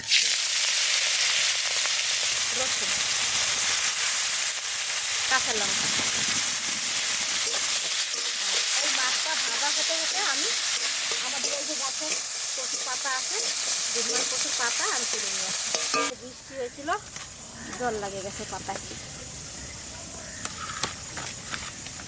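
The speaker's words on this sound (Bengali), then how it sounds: "এটা বাটা করার জন্য আগে প্রথমে ভেজে নেব সরষের তেল দিয়ে দেবো চিংড়ি মাছ করে দিয়ে দিচ্ছি" Small river fish and shrimp fry in mustard oil, a loud continuous sizzle with crackling pops that drops to a quieter hiss partway through, heard close and with no talk.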